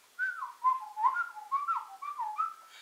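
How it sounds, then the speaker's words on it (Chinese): Lip whistling of a song melody, a clear solo tune of several sliding, phrased notes with short gaps, close and fairly quiet with no talking. "第一种就是我平常在用吹歌这种"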